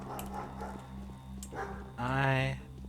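Dog barking in the video game Pathologic, a short run of yelps and a rising whine near the end of the clip, heard over steady game ambience with a low hum.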